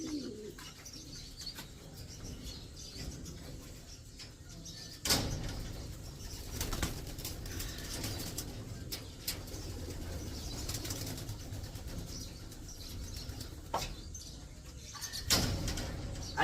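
Racing pigeons coo softly over a noisy background, with a few sharp bumps and fluttering sounds scattered through, fairly quiet and at a moderate distance.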